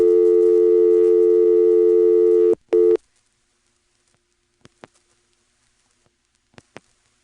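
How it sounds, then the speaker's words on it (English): A steady electronic telephone network tone holds for a few seconds, cuts off in a short stutter, then gives way to near silence with faint sparse clicks, as heard calling Charlottesville around 1979. "it would make a very odd series of pulsing noises and then give me a recording from Charlottesville"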